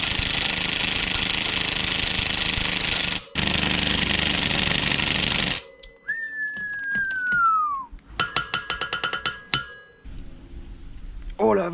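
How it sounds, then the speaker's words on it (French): A loud, harsh impact wrench rattle loosening a bolt through stacked adapters blasts for several seconds, then stops; later come short bursts of rapid hammering clatter with a brief whine between. "Adaptateur sur adaptateur sur adaptateur et clé à choc"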